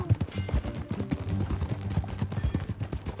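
Horse hooves clip-clopping in Red Dead Redemption 2, a quick, uneven rhythm of close thuds at a steady trot with no speech.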